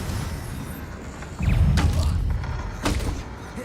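The Confringo blasting spell cast in the video game Hogwarts Legacy lands as a heavy thud with a low rumble, then a second softer impact follows about a second and a half later.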